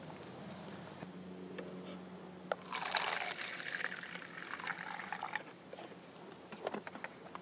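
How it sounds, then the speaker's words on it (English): Apple cider vinegar is poured into a plastic fly trap for spotted wing drosophila in a blackberry planting, a soft, close trickle swelling into a steady pour and then tapering to drips, with no voices. "we add apple cider vinegar."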